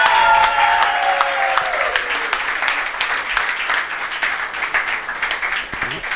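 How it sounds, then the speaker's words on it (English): An audience at a gesture-based machine learning demo applauds the innovators, a sustained wash of clapping from a crowd with a brief tonal sweep at the start and the clapping gradually thinning out. "Big round of applause for all innovators."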